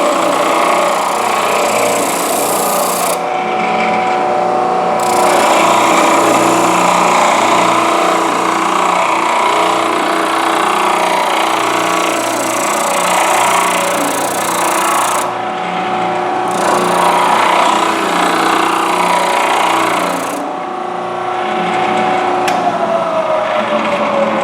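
A spindle sander grinds steadily against a curved wooden workpiece, close and loud, the motor's hum continuous while the abrasive rasp shifts as the wood is fed around the spindle, with brief dips in the high hiss.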